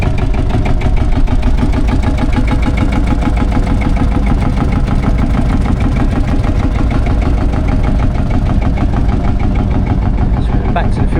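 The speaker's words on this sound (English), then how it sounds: "Listen to the engine." A heavy old Field Marshall tractor engine chugs loudly and steadily at close range at a steam rally, a constant low rhythmic thumping throughout.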